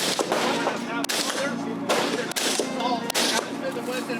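Rapid gunfire from a rifle with a 10.5-inch barrel firing 55-grain bullets, a loud continuous burst of repeated shots with brief gaps, heavy echo and rumble throughout.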